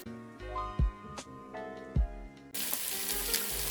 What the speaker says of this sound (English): When you've got a nice colour on your meat and it's been sizzling away